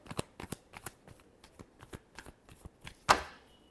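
Tarot cards are shuffled by hand in a quiet room, a run of soft, quick riffling flicks ending in one sharper snap as the deck is squared, with no talking.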